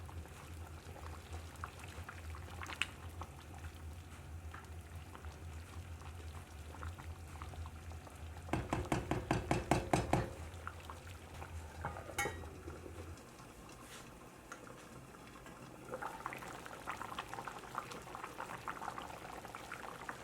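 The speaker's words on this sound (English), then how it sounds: "Keep coming back every few minutes to stir so that it doesn't stick." Moong dal lentil soup simmering in a pot on the stove gives a steady low bubbling throughout, with a brief louder burst of clinking and bubbling midway and faint utensil sounds.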